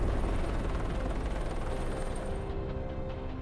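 A helicopter comes in to land at 16,000 feet near Everest, its rotor and engine a loud, steady, close roar throughout, with no speech.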